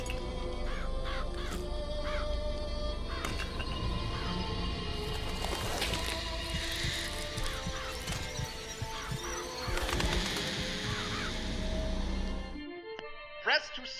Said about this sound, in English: Press to summon murderous crows